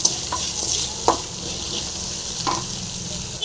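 Onions and salt frying in a pan for a Tamil cauliflower dish, a steady close sizzle broken by a few sharp scraping stirs of the spoon, with no voices.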